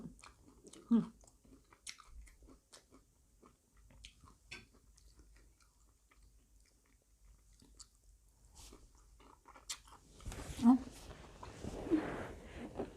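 Close, quiet biting and chewing of shrimp during a meal, with soft crunches and mouth sounds that are louder near the start and again toward the end, alongside occasional voice sounds.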